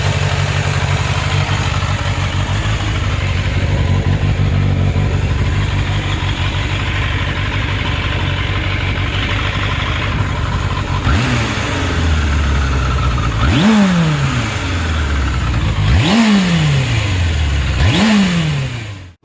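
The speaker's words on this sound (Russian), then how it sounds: "Kawasaki Zephyr 550." A Kawasaki Zephyr 550 motorcycle with an inline four-cylinder engine of 553 cc idles with a steady close rumble, then is revved in four sharp blips that rise and fall near the end.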